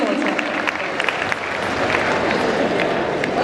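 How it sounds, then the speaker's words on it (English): An audience at a success-mantras talk gives a speaker a round of applause. The clapping is thick and continuous throughout, with some crowd voices mixed in. "Come on, a round of applause."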